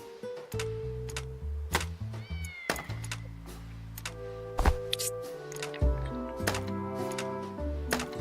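Cats meow in the video game Fort Meow over a backdrop of synthesized game music, with scattered short thunks and pops from in-game effects.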